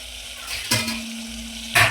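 A tempering of spices hits hot oil in a home kitchen, giving short bursts of crackling sizzle, one near the middle and another stronger one near the end, over a quiet steady background hum.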